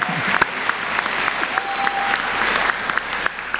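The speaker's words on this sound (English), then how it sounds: "Now you can applaud." At a 2024 commencement ceremony, the audience of graduates, families and faculty breaks into sustained applause, loud and sharp, with some scattered cheers and a faint voice mixed into the crowd noise.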